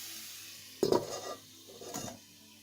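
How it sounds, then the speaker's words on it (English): Two metal clatters ring out as a lid is set on a cooking pot holding peppers, onion, garlic and turmeric, a sharp clank followed a moment later by a softer second knock, close by. "We're going to put the lid on that now again."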